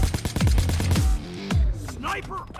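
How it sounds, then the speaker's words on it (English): Sniper rifle fire in the video game Payday 2 heist shootout: a rapid run of sharp, loud gunshots in quick succession, with a few heavier booms and ringing tails after them, while game effects chirp in the background. "Oh, there's a sniper outside."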